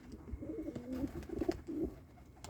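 Pigeons coo in a low, repeated murmur close by, with soft breathy shuffling around the loft and no talk over them.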